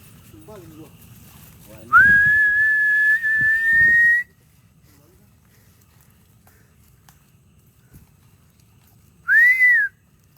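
A person whistles a long sustained rising note for about two seconds, then after a quiet gap, a shorter whistled note; faint shuffling in between, in a village in Bogor, Indonesia.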